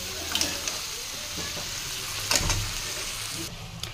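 Chicken sizzles and fries steadily in a pan, with a few scraping stirs and light clinks from a utensil.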